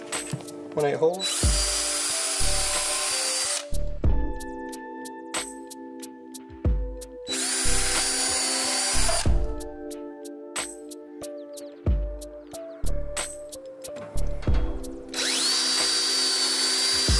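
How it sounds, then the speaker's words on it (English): A power drill bores 1/8-inch holes into wood while attic stairs are installed, running in three loud, close, sustained bursts separated by quieter pauses with some voice and handling noise. "I guess we're drilling right here in these holes right first, right?"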